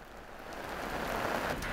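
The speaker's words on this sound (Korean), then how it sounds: "굵어진 빗방울." Heavy rain falling steadily outdoors, a continuous dense hiss of drops on surfaces that grows slightly louder over the short stretch, with no voices.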